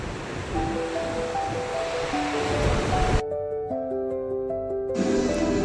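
Water rushing steadily through a canal carrying flow from the Gaganachukki waterfall at Shivanasamudra toward a hydroelectric plant, a dense continuous roar with a brief dip near the middle.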